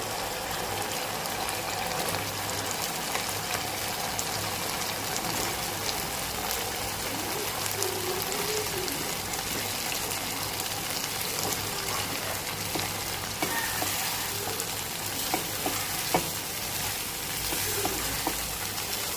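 Pieces of liver dropped into a spiced masala frying in oil, a continuous strong sizzle and bubbling hiss with occasional stirring clicks, no talking.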